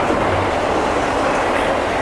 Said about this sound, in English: Loaded auto rack train.